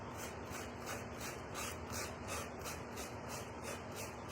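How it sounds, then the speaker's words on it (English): Steady rhythmic rubbing strokes of a small sanding block scrubbing green residue off, back and forth, repeating evenly and quietly with no voices. "I'm gonna take this little sanding block. I'm just gonna see what I can do about getting this green off"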